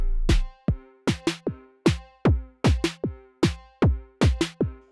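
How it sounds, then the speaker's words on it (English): Kick drum from an Axoloti drum synthesizer, punchy low thumps in a repeating groove among other synthesized drum hits, loud and dry with no voices. "this is the sound of the kick drum."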